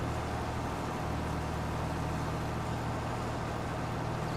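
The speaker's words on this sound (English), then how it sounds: "Listen to the engine." Farm engine idling steadily during bean harvest and anhydrous work, a constant low rumble with broadband noise, unchanging and moderately faint throughout.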